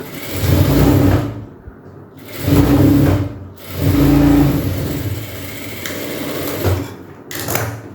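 Sewing machine running in three bursts while stitching a folded half-inch hem on petticoat cloth, each run a steady mid-pitched whir that stops and restarts, near and loud with no talking.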